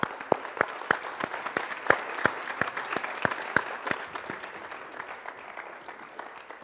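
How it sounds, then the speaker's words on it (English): An audience at a high school concert choir event applauds seniors coming to the stage, with crisp individual claps ringing out over a lighter bed of scattered clapping that gradually thins and fades. "Could we give them a round of applause as they come up?"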